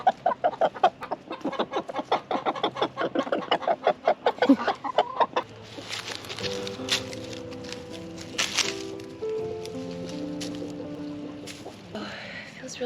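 A backyard rooster in North Georgia gives rapid, rhythmic clucking calls to summon his hens to food, close and clear, followed by a quieter stretch of outdoor ambience with a low steady hum.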